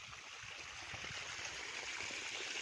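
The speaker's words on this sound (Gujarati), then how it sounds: "બકાલામાં પાણી ચાલુ કરી દીધું" Irrigation water flows into a vegetable field in a steady, hissing rush with faint gurgles underneath, continuous and fairly close, no one speaking.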